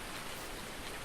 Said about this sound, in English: I haven't had rain on FS19 before.